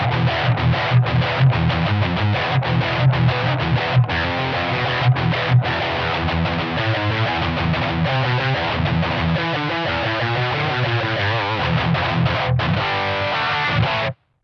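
An electric guitar, a Strat, plays dry and choppy through a Line 6 Pocket POD with the reverb turned off and a noise gate on. Distorted notes and chords fill the whole stretch at a steady level, with no talk.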